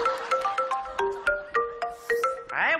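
A mobile phone ringtone plays a repeating melodic pattern of bright, evenly spaced electronic notes at moderate volume, cut off near the end by a brief different sound.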